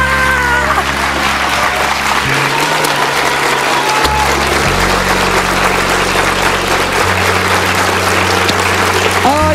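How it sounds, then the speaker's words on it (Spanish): A television studio audience gives a loud, sustained round of applause for a national champion guest, a dense continuous clatter of hands over low droning tones and musical notes underneath. "quiero que la recibamos con un aplauso muy fuerte"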